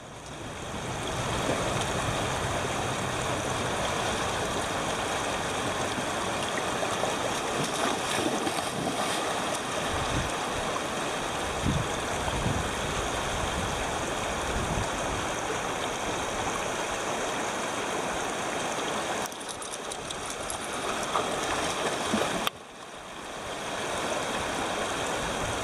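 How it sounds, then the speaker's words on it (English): White water rushes and roars around a boat where a river meets the ocean at Kaluxi River, a dense continuous wash with wind buffeting the microphone and a brief drop near the end. "Taking on white water."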